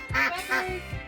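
A duck on a small farm gives a few loud, close quacks in quick succession, nasal and raspy, over about a second.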